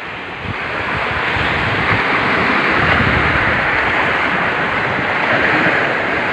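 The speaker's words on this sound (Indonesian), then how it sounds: "Di pantai ya." Surf rolls in continuously on a beach with wind buffeting the microphone, a steady, loud wash of breaking waves with no pauses.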